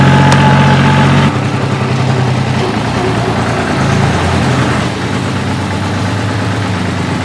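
A tractor engine drones steadily and loudly during a bumpy ride, a close, continuous low rumble with no talking.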